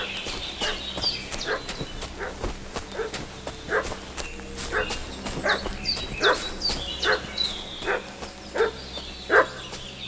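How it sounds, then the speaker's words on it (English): A dog in the medieval game Kingdom Come: Deliverance 2 barks repeatedly in sharp, irregular bursts at moderate distance, mixed with footsteps and hoof clops over a low ambient hum. "What's that dog making such a fuss about?"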